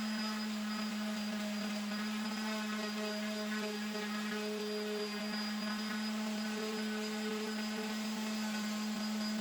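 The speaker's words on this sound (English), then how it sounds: "I like this sand net. It lasts a lot longer than the regular sandpaper that I use." A farmhouse bench being sanded with a sand net on a power sander, a steady whining hum with a strong low drone and layered high tones, close and constant throughout, with no voices.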